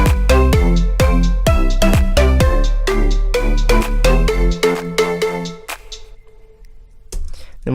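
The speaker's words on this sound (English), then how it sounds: "We're going to stop the sub bass here and just have the pluck bass." Pluck bass in a house track playing alone, a quick rhythmic run of short plucked notes that stops abruptly midway, leaving near silence with faint clicks.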